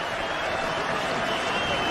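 A stadium cricket crowd at a World Cup match between England and New Zealand applauds a batsman reaching fifty, a broad, even roar of clapping from far off with no break.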